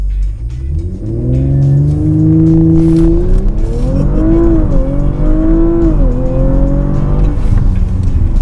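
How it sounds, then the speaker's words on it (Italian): An Audi RS5 makes a launch-control start, its engine rising from a held rev into a loud, close, continuous acceleration roar that climbs in pitch through several gear changes. "ora proveremo un launch control"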